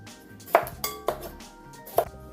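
Knife cutting cucumbers on a cutting board while prepping a green juice, four sharp clacks of the blade striking the board spaced roughly half a second apart, close and clear with no talking.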